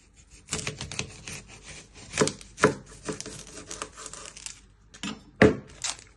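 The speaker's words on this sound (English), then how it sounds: "You're first going to chop your end." A knife chops the end off an onion on a cutting board: a handful of irregular, close wooden knocks and thuds spaced over several seconds, with no talking.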